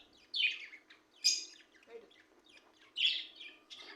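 Pet budgies in a cage give bright, sharp chirps in short bursts, four clear calls spaced about a second apart against a quiet background with a faint low hum.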